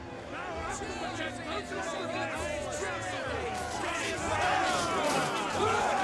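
Soldiers cheer and shout in a Rome II Total War siege battle, a steady massed roar of voices with some rising yells near the end, under a commentator's talk.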